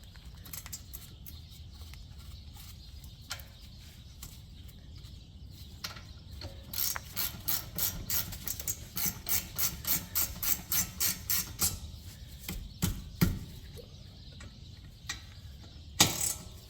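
Ratchet tightening the rear brake bolts on a Ford Edge, quiet quick clicking that speeds into fast even runs of pawl ticks, close by and with no talk.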